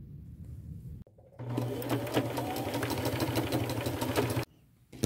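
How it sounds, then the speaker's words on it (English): A sewing machine running a zigzag stitch back and forth on a boho headband, a fast rhythmic whirring clatter that runs steadily for about three seconds between short quiet pauses. "I will go to my machine, and just right at the edge, I'm going to do a zigzag stitch back and forth a couple times on that end"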